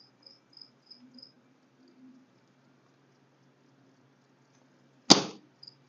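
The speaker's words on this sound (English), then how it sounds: "Oh, no, there's a cricket in here." A cricket indoors gives a few faint, evenly spaced chirps early on, then a sudden sharp knock or thump sounds close by near the end.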